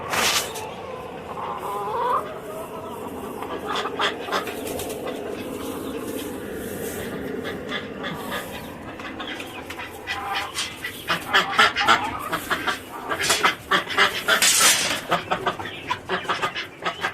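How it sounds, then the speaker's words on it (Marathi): Caged village chickens cluck and call in a steady, busy chorus, with sharper, louder squawks and flurries building toward the end. "कोंबड्या अजून सोडलेल्या नाही आहेत."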